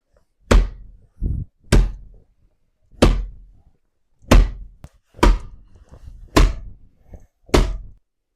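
Bare-knuckle punches land on a makiwara karate striking board made of wood with a leather pad, seven loud, close, dull thuds at irregular intervals of about one second, with silence between blows.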